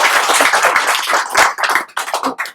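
Loud clapping from an audience at a political gathering on OBC community issues, a dense burst of many hands that swells, dips briefly and picks up again over a few seconds, with no talk over it.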